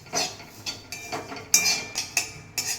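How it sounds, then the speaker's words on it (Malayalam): Grated coconut, shallots and curry leaves are roasted in a pan over medium-low flame, a spatula scraping and tapping against the metal in a repeated rhythm of about eight close, crisp strokes, with no talking. "എന്നിട്ട് നമുക്ക് നന്നായിട്ട് വറുത്തെടുക്കാം"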